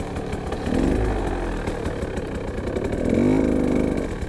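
Motorcycle engine revving hard while climbing a steep line in second gear, a loud steady drone with a rising surge of revs near the end, close to the rider.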